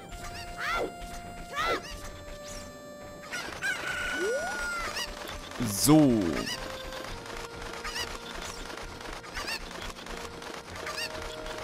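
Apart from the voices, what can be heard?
chicken clucking in video game Zelda Ocarina of Time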